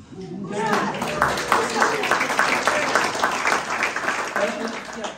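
Sustained, lively applause from a room full of people at a rally club awards ceremony swells up quickly and carries on steadily, with some voices mixed in underneath.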